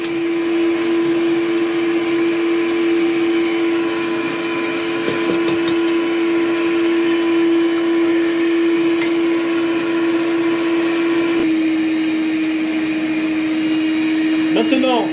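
An electric mixer hums steadily at low speed throughout, a constant motor whine beating a dough with orange blossom water as eggs go in, with faint clinks of the bowl under it.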